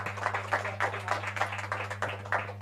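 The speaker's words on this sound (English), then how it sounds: "Let's clap hands for her." An audience claps for a presenter at a youth, green and digital event, a thin scattering of handclaps over a steady electrical hum, moderately faint and without talk.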